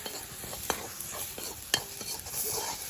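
A spoon stirring mixed spices into a home-cooked Pahadi dinner dish in a pan, light scraping and clinks at an irregular pace over a faint sizzle, quiet and close.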